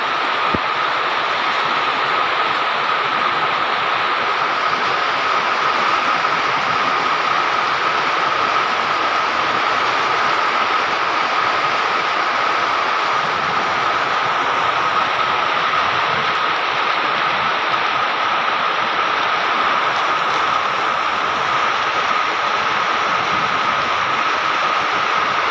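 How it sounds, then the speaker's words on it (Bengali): Heavy monsoon rain pours down steadily in a dense, loud, unbroken roar that holds constant throughout, with no thunder or wind and no voices. "বৃষ্টির তীব্রতা আস্তে আস্তে বাড়ছে।"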